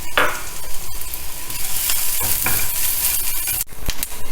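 Chopped coconut bits sizzling in hot ghee for a payasam, a continuous bright crackle broken by sharp stirring knocks and scrapes, recorded up close with no speech.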